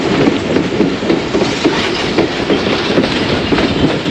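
A train rolls into Wazirabad Junction on a foggy morning run from Lahore, a continuous loud rumble with rhythmic clickety-clack of wheels over rail joints heard from on board, no voices.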